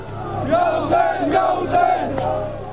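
A large crowd of Shia mourners in a procession in Rawalpindi, Pakistan, chants a martyr's name in loud, rhythmic group shouts, with repeated swells of many voices over a steady background roar.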